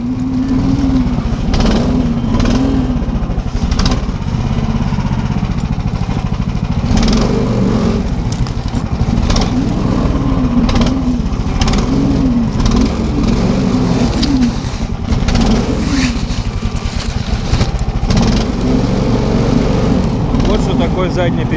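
A Lider 3 motorized tow engine runs steadily in reverse gear, its loud, continuous rumble sustained for the full stretch with a voice talking over it.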